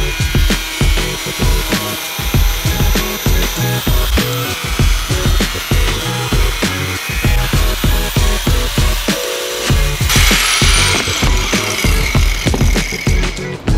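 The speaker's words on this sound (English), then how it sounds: "But anyways, Timbro is about to cut out the fender liner for the mesh." A tool cuts out the plastic fender liner of a Civic Type R during a workshop overhaul, a loud close rapid chattering rasp in steady bursts that briefly eases and then picks up again, with no one talking.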